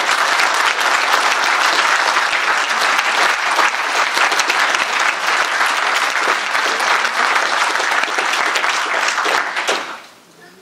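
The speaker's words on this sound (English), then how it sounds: "please will you all join me in giving them a round of applause" Sustained loud applause from a large audience at a union closing plenary, steady dense clapping for about ten seconds before fading out abruptly.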